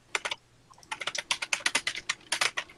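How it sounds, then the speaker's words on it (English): Vigorous typing on a mechanical keyboard: a quick, uneven burst of sharp, close key clacks, with a short pause near the start before a rapid run of strokes, no talking. "somebody's vigorously typing. I'm sorry, I have a mechanical keyboard."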